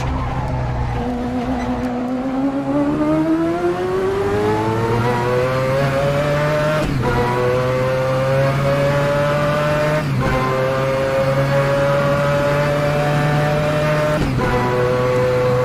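A race car engine in a Le Mans racing video game drones loud and continuously as revs climb steadily, with a few abrupt gear changes and downshift blips breaking the sustained tone.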